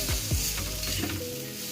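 Food sizzles on a hot tava griddle with a steady frying hiss, broken by a few scraping stirs near the start; close and fairly loud, with no voices.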